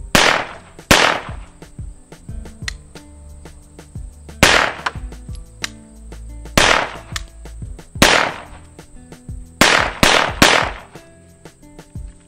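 A semi-automatic pistol fires black powder Pyrodex rounds in sharp, loud, nearby shots, mostly singles spaced a few seconds apart, ending with a quick cluster of three.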